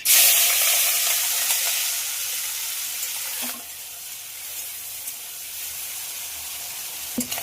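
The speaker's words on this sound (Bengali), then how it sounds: "তেল গরম হয়ে গেছে, চিংড়ি মাছটা ভাজার জন্য ছেড়ে দেবো" Prawns fry in hot mustard oil seasoned with turmeric and salt, giving a loud, dense sizzle that bursts at first and then settles into a steady, softer crackle with a few small pops.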